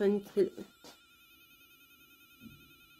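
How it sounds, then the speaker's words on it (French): A telephone rings with a steady electronic tone after a brief burst of nearby speech, the ringing sustained and fairly quiet. "sonnerie téléphone"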